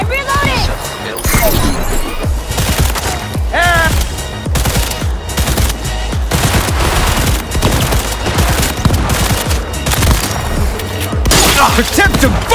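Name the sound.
shotgun gunfire in the video game Cyberpunk 2077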